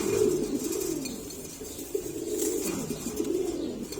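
Pigeons cooing softly and repeatedly in low, throaty rolls, overlapping one another against a steady background hiss.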